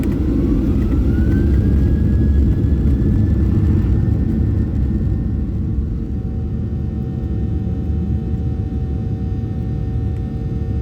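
Budget airliner taking off from Edinburgh, heard from the cabin as a loud, steady engine roar and deep rumble, with a rising whine early on that levels off and holds.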